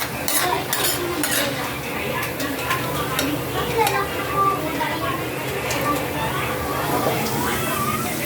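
French fries cook in hot oil with a steady sizzle, overlaid by frequent clinks and scrapes of a utensil against the pan, while people talk nearby.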